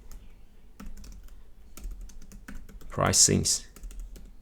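Typing on a computer keyboard, close and fairly quiet: a rapid series of light key clicks runs throughout, with a person speaking briefly partway through.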